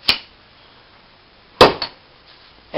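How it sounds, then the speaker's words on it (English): A hammer strikes a spring-loaded battery cable crimper to fix a cable end for an electric car conversion, giving a few sharp, close metallic knocks with a quiet pause between them. "and you hit it with a hammer"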